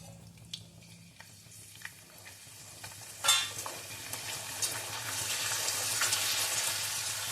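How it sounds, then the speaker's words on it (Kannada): Masala papad frying in hot oil gives a faint hiss that swells into a broad, steady sizzle, with a few small pops and clicks early on and no voices. "ಎಣ್ಣೆ ಚೆನ್ನಾಗಿ ಕಾದಿರಬೇಕು ಆವಾಗ ಹಪ್ಪಳ ಹಾಕಿ"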